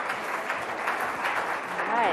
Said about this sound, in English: So please give a round of applause for Kombucha on Tap.